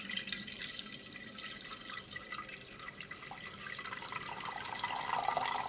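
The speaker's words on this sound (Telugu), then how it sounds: "ఈ కడిగిన వాటర్ వేస్ట్ చేయకుండా మనం ఒక గిన్నెలో తీసుకొని" Water left over from washing rice is poured into a bowl, producing a steady, soft trickling and splashing that grows a little fuller toward the end.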